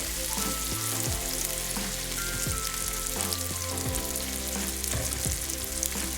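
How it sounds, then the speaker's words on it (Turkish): Steady, loud sizzling and crackling of chicken pieces frying in hot oil with vegetables for saç kavurma, with occasional clinks of a utensil stirring, no voices. "Biraz daha tavuklarımın kavrulmasını bekliyorum."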